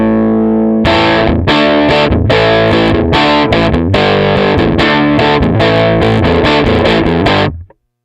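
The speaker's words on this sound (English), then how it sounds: "So you can really boost it if you want to get a really nice broken up bluesy tube sound." An electric guitar through a Headrush modeler's 1950s tube amp model, boosted for a broken-up bluesy tone, plays loud, dense distorted chords and riffs after a short intro, then cuts off abruptly near the end.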